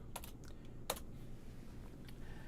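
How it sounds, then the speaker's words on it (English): Typing a folder name on a computer keyboard during an HTML and CSS coding session, a few close, crisp key clicks spread over a low, steady background hum. "And then just type a folder name like Bootcamp"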